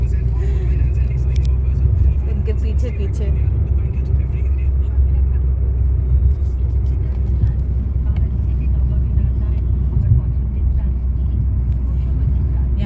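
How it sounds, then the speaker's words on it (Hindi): A car creeps along in stopped traffic, its low engine rumble and road noise steady throughout while someone talks over it close by. "यहाँ पे हमारी गाड़ी चल रही है"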